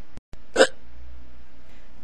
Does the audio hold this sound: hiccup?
yes